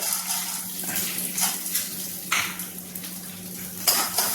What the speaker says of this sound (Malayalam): അതായത് പൊട്ടുകടല അതും കൂടെ ഒന്ന് റോസ്റ്റ് ചെയ്ത് മാറ്റി വയ്ക്കാം